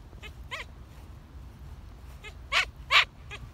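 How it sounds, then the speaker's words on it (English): A wire-haired Dachshund gives a few sharp, high barks at his ball, widely spaced with two louder yaps near the end, close by in a quiet room. "It makes me laugh that he barks at his ball."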